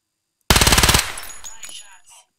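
Video game gunfire at targets: a rapid burst of about ten evenly spaced automatic shots, loud and close, cut off abruptly and followed by a fading tail of echo and scattered debris sounds.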